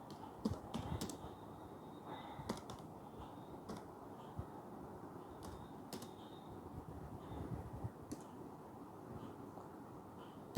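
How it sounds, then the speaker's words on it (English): Keystrokes on a computer keyboard while a short class description is typed, a steady run of light clicks with a few sharper taps, close and moderately quiet over a faint background hum. "I will simply type over here a brief description of my tomorrow's class."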